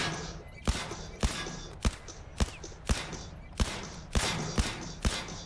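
Pistol shots in the Blood and Truth VR game ring out one at a time in a steady rhythm, about ten sharp cracks, fairly close over a quiet background.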